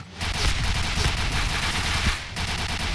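Dense, continuous automatic gunfire rattles loudly for several seconds, with a brief dip partway through before the shooting resumes.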